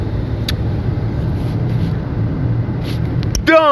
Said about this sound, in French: on fait dégeler nos fenêtres, faire virer le véhicule un petit peu avant de partir